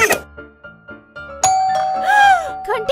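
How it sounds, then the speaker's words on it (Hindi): A two-tone ding-dong doorbell chimes loudly and clearly, ringing out over soft background sounds with no talking. "घंटी कौन बजा रहा है?"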